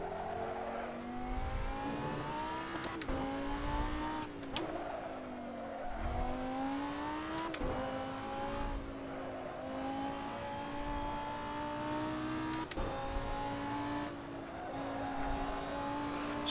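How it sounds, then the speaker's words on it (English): A race car in the sim racing game Assetto Corsa launches and accelerates hard, its engine rising in pitch through repeated gear shifts, loud and steady for the whole stretch with no talk. "I launched the car there."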